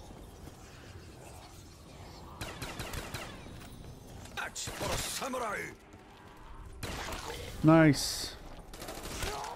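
Scattered bursts of close gunfire in Black Ops 3 Zombies on the Origins map, during a gun game round with Black Ops 1 weapons, mixed with game noises while a player talks.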